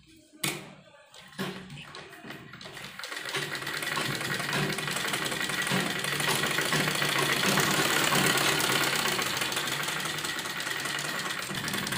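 Electric sewing machine stitching fabric for a child's lined kurti, starting after a few handling clicks and then running as a steady, close, continuous whirring hum to the end.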